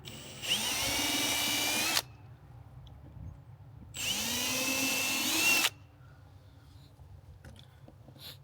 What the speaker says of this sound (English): Now I'm going to pre-drill for the pilot holes for the screws.